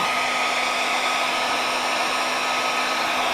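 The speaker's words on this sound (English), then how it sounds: "Heat gun in hand," A heat gun blows hot air to melt beeswax on a one-piece silicone cut mold, giving a loud, steady roar with a constant whine that runs unbroken from start to finish, with no talking.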